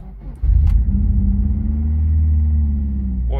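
A VAZ car engine cranks and catches, then settles into a loud, steady low idle rumble close by.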